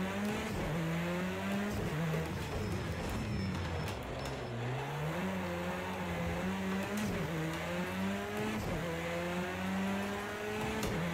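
Rally car in the racing game Project Cars 2, its engine droning and rising and falling in pitch through gear changes and braking, with tire scrabble and gravel noise underneath, steady and close throughout.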